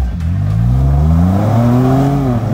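A Jeep's engine revs hard on an off-road trail during a Jeep Jamboree at Stony Lonesome, its pitch climbing steadily in one loud, close, sustained pull with no talk over it.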